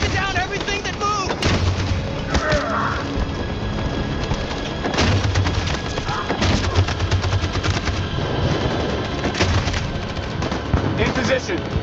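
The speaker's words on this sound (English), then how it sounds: "That machine gun is taking down everything that moves!" Heavy sustained machine gun fire in the Detroit: Become Human video game, loud continuous rattling bursts mixed with booming explosions and thuds, with voices shouting amid the battle.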